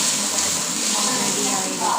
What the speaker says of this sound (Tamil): இப்போ தோசையை ஊற்றி பார்ப்போம்